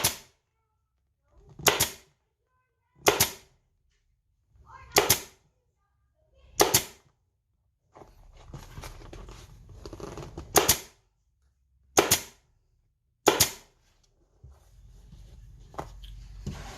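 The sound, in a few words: pneumatic staple gun stapling ATV seat cover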